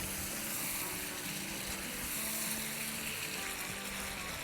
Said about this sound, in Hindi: बस इसको 2 मिनट अच्छे से सौटे करेंगे।